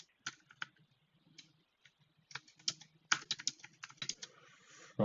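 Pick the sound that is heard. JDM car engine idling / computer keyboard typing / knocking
computer keyboard typing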